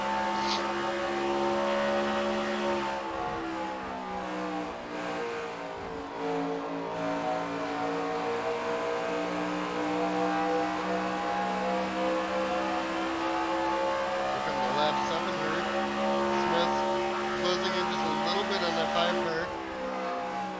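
Race car engine on an on-board lap at Las Vegas in CLRL 1996 racing, a steady loud harmonic drone that shifts pitch as the car accelerates and lifts through the lap, with commentary talking over it throughout.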